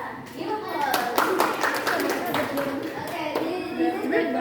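A classroom of students claps in quick, uneven bursts, close and moderately loud, with children's voices chattering over and between the hand claps.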